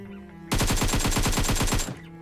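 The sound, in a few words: AKM rifle gunfire in video game PUBG Mobile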